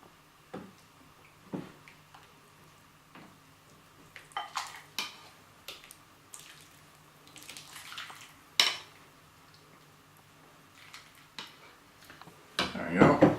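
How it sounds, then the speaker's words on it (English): Meatball soup ladled into a serving bowl, with faint liquid pours and light clinks of a ladle against the bowl scattered through a quiet kitchen, followed by louder clatter at the end. "So I'm just gonna serve one portion in a bowl."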